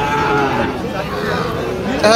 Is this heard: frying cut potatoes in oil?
no